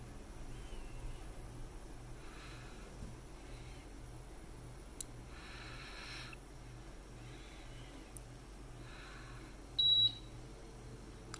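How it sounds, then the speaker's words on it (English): A single short electronic beep from a Honeywell BW GasAlert Extreme ammonia gas monitor stands out near the end over a faint steady hum and soft background clicks, quiet and close, as gas is applied during calibration. "So that beep means it's recognizing and it has the gas on there."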